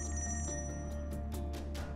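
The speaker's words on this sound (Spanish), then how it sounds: "Teléfono." A telephone bell rings in repeated bursts over a steady background hum, close and fairly loud, with no talking.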